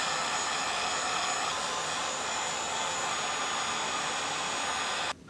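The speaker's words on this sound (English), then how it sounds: "grab that heat gun again, and let's shrink this." A heat gun shrinking plastic wrap over a zombie hand prop roars as a loud, steady whoosh, close up, then cuts off abruptly near the end.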